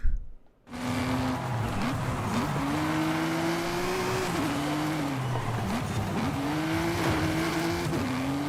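An American muscle car races in Forza Horizon 5, its loud V8-style engine droning steadily and rising and falling through gear shifts. Tire squeal joins in briefly after a short silent start.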